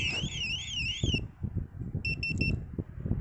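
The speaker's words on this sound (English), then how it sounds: "it's actually giving us two-way notification that the alarm is triggered" A StarLine E9 van security alarm sounds a loud warbling siren that cuts off, followed by a quick series of pulsed beeps, all over steady engine or background rumble.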